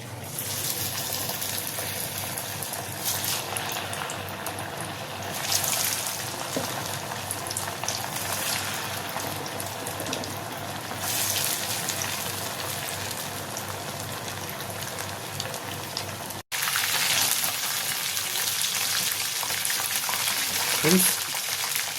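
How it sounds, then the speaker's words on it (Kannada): Boneless fish kabab pieces fry in hot oil with a steady, dense sizzle and bubbling that runs the whole time, briefly cut off near the end before resuming just as loud. "ಇದು ಚೆನ್ನಾಗಿ ಫ್ರೈ ಆಗಿದೆ."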